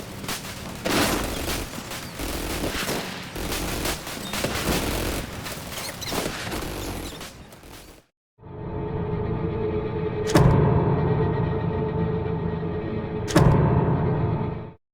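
Aquila rifle in the Centaura video game firing during sniping, dense rapid shots for several seconds, then a pause and a steady hum broken by two sharp, distinct cracks a few seconds apart.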